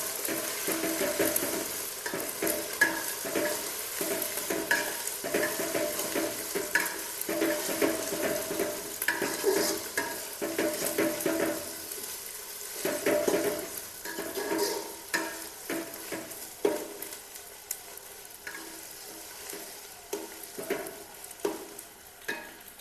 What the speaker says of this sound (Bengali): এখন দিচ্ছি রসুন বাটা, আদা বাটা, একসঙ্গে ভেজে নেব